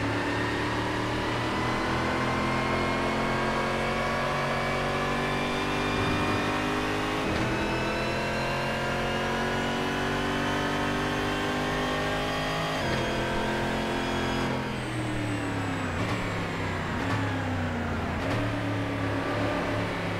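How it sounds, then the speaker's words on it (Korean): Genesis S6000 stock car engine roaring in Assetto Corsa racing at the K.I.C GP circuit, a loud continuous drone that rises and falls through gear shifts and revs, filling the whole stretch. "차소리가 워낙 크다 보니까 잘 안 들려요."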